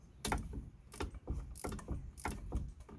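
Ratchet wrench undoing an 8mm bolt on a rear brake hub clamp of a 2005–2012 Vauxhall Opel Zafira B, with a series of sharp, close clicking bursts in a steady back-and-forth rhythm, no talking.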